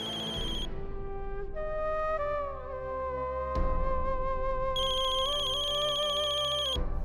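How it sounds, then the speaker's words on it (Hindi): A telephone rings at night with a melodic electronic ringtone, its tune repeating steadily and clearly, with no voices. "और इस फोन की वजह से हमारी नींद खुल गई।"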